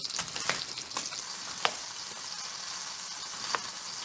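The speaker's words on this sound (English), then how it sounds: "enjoy the sweet sounds of pork chops getting comfortable with their heat" Thick pork chops fry in a pan with a steady sizzle and a few sharp pops and crackles, close and alone.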